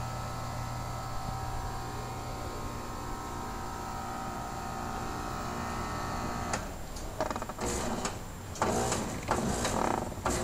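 A 2006 Bryant heat pump runs in cool mode with a steady mechanical hum and whir, then after about six seconds its compressor starts making irregular rattling, clattering bursts that grow louder toward the end.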